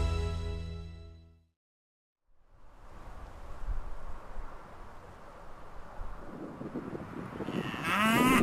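A Wagyu beef cow on a farm lets out a long, loud moo that fades to a brief silence, followed by steady rushing outdoor noise that builds toward the end.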